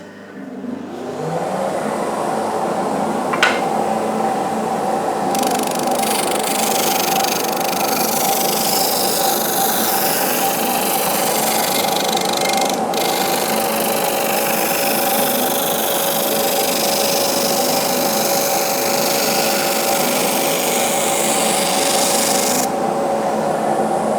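A Jet JBOS 5 oscillating spindle sander runs with a dust extraction vacuum drawing through a 36 mm Festool hose, a steady, close, rasping rub over a constant machine hum that holds unbroken throughout, with no talk.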